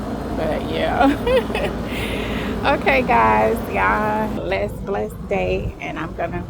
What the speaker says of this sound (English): sorry about the noise because we're by the air condition.